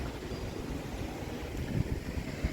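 Gusty wind buffets a microphone outdoors on a windy day, a steady low rumble of roaring turbulence with a couple of heavier thumping gusts toward the end, close and fairly loud with no voices.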